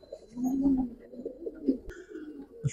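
A black-necked Giribaz pigeon coos in a few soft, low, throaty bursts close by, with a brief sharp click partway through.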